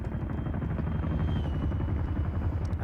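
A troop-carrying helicopter in a PvP military video game thunders with a loud, steady rotor chop and heavy low rumble, heard close and continuously with no talk.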